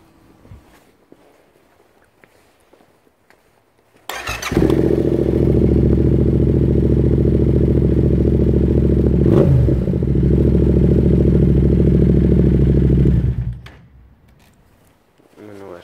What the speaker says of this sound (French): on va faire le premier démarrage avec la clé rouge